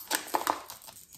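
A new food packet is torn open, with a few short crinkling, crackling bursts of plastic close by, fading into quieter rustles.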